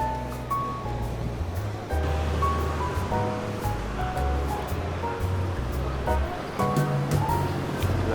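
Ocean waves wash onto a wide beach in Da Nang, Vietnam, in a continuous rushing surf with swells that come and go, under steady tonal sounds that resemble background music.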